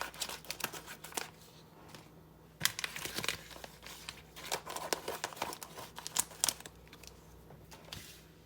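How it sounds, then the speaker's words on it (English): Small scissors snip and tear open plastic-wrapped fish packages, with crinkling and rustling in irregular bursts at close range and no speech. "we're going to just open up our packages"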